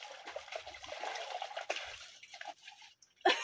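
Water drips and trickles from an outdoor sun shower in an African village, a soft uneven patter of close drops with a brief louder splash near the end.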